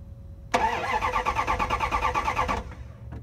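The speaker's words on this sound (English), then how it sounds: "I'm gonna crank the engine," An engine cranks and catches, running unevenly for about two seconds with a pulsing rhythm before cutting off abruptly, close and loud, alone without talk.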